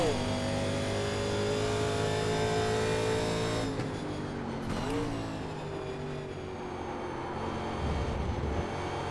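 A 1987 NASCAR Legends race car engine in iRacing at Watkins Glen holds a steady high drone, then drops and shifts pitch as the throttle eases, continuing at a lower, rougher note.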